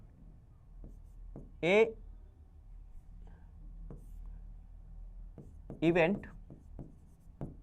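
Pen writing on paper while solving a Class 10 maths probability question gives faint scratchy strokes and taps under a man's steady spoken explanation.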